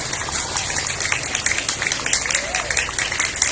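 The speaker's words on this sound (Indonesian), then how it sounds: "semua memberi aplaus kepada Bapak dan Ibu guru karena sudah menjadi penyebab upacara yang baik" A crowd of students claps steadily for the teachers at an outdoor school flag ceremony on national education day, a dense, even patter of applause held throughout.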